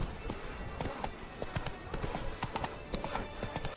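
Horse hooves clip-clopping in the video game Witcher 3, a steady run of close hoofbeats over a busy in-game ambience, with no talk.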